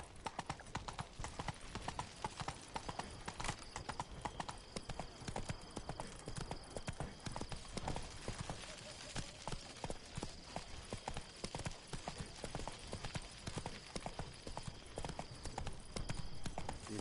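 A horse gallops in The Witcher 3 with a fast, steady clip-clop of hooves running throughout. The hoofbeats are distinct and rhythmic over a constant ambient wash, with a faint bit of background voice.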